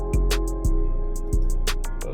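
Electric guitar chord one-shot rings out as a sustained tone, with a beat of kicks and crisp hi-hats in the mix, close and clear.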